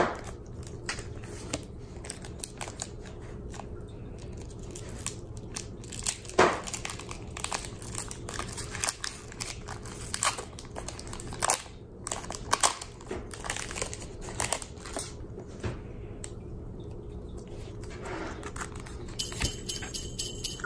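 Pokemon TCG Dragon Majesty booster packs torn open, with soft crinkling foil and scattered tearing and rustling bursts, close and fairly quiet. Occasional louder crackles come near the end.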